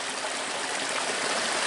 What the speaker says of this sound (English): I'm going to put just a little bit more water in here